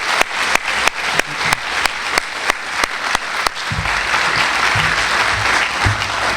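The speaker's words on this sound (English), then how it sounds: "I'd also like to ask for one more round of applause" Slow, evenly spaced loud claps ring out about a dozen times, then swell into continuous applause from a whole crowd.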